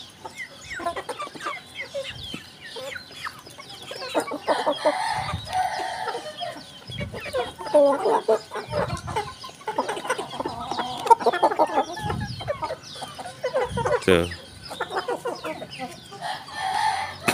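Bangkok chickens and roosters cluck and crow throughout a farmyard, with repeated calls at varying distance and someone speaking briefly among them.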